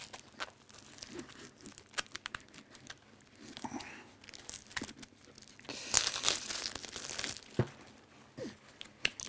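Close, fairly quiet crinkling and tearing as the plastic wrapping on a small deck of Zombicide cards is opened, in irregular rustling bursts that swell to a louder crackle partway through.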